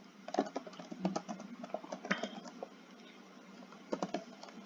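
Quick bursts of keystrokes on a computer keyboard, close and moderately quiet, with short clusters of clicks and brief pauses between them, no voices.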